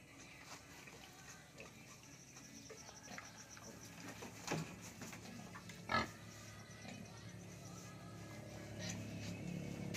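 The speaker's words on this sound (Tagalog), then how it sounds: "Ganyan talaga pag ang baboy ay naglalandi" A restless native pig in heat grunts faintly in low, scattered snorts against a quiet outdoor farm background with insects, a couple of sharper noises standing out.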